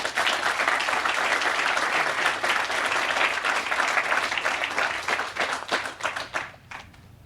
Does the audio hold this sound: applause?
yes